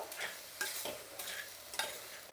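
Spice tempering fries in a small pan, with a quiet sizzle and repeated scraping stirs in an irregular rhythm, soft and close, with no talking.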